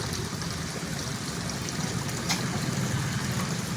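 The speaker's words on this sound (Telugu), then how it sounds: "డిఫరెంట్ డిఫరెంట్గా వాటర్ ఫాల్స్ లాగా పడుతుంది" Water splashes steadily from a decorative garden fountain at a plant nursery, a soft continuous trickling and pattering with no voices.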